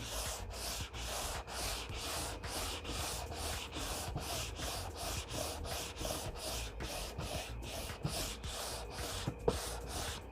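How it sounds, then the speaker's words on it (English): A hand sander lightly works the surface of a wooden board, making steady, rhythmic back-and-forth rasping strokes close by with no talking. "we're going to take a hand sander, and we're going to just lightly sand the surface of the board"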